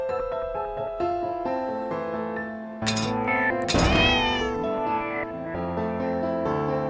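A cat in the video game The Cat Lady gives a loud, drawn-out, pained meow over eerie background music, with a sharp thunk just before the cry.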